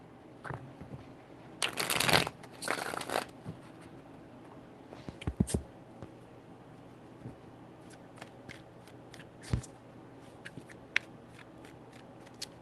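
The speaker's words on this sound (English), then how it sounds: "Three shuffles." Tarot cards being shuffled come through as a couple of quick riffling bursts, followed by scattered light taps and card handling against a quiet background, with no voices.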